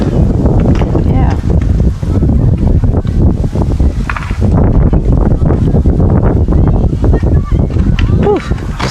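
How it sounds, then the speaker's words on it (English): Strong wind buffeting the microphone outdoors, with loud continuous rumbling gusts filling the whole stretch. "Just letting the wind go on by, you know?"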